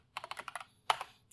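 Keystrokes on a computer keyboard as a command is typed: a quick run of about eight close, crisp taps, a brief pause, then two or three more, with no talking.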